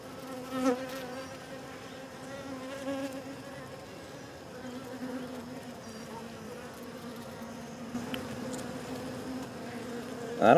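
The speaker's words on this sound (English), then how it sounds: "And we got bees on this side" Honeybees hum steadily from a small cluster on an old comb frame pulled from a nucleus box, a close continuous buzz with a few louder passes near the frame.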